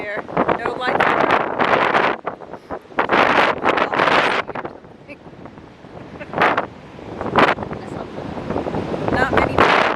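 Strong wind buffets the microphone on an open beach at Indialantic Beach, Florida, in loud roaring gusts with brief lulls, with faint surf beneath and occasional voices.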